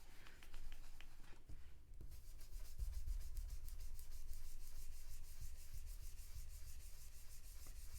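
Marker or pencil rubbing back and forth across paper, coloring it in green for a paper-piecing butterfly; steady, close scratchy strokes with a faster rhythmic rub in the second half, no talking.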